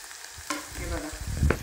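Phodni tempering for a vegetable dish sizzles in hot oil on a home stove, with coriander powder and peanuts nearby. A soft, close frying hiss is broken by stirring and a sharper clink near the end.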